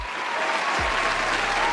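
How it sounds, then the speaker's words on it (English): A round of applause from an audience at a comedy commentary show, broad even clapping holding steady throughout with a brief low thump near the start and no clear speech. "Give him a round of applause."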